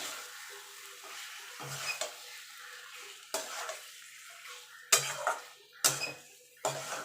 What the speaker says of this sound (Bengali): মাংসটা দিয়ে এবার মশলার সঙ্গে ভালো করে কষিয়ে দেবো